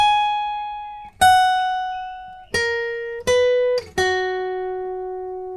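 Single guitar notes from the second section of a song's solo, five clean plucked tones stepping downward, each ringing out and slowly decaying, played alone.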